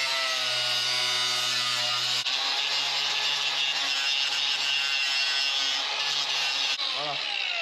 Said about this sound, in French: Là, je suis en train de meuler de partout pour pas que ça dépasse.